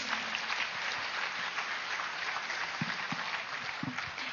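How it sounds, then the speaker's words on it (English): An audience at a meditation summit in India gives sustained applause for the sponsors, an even wash of many hands clapping at moderate distance, fairly quiet and unbroken. "Can we have a huge round of applause for them, please?"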